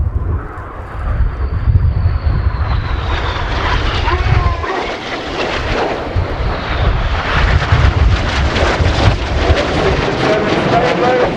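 Royal Air Force Red Arrows jets roar through a flying display at RIAT 2019, a loud, continuous sweeping engine rumble as aircraft pass, with a commentator talking over it.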